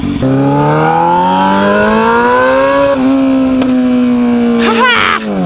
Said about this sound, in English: If you couldn't tell, this is a loud exhaust.